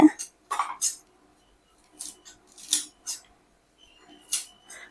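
Fresh keezhanelli plants, roots and all, being cut into small pieces, giving a handful of short, crisp snipping and chopping clicks spaced irregularly with quiet pauses between them, close by.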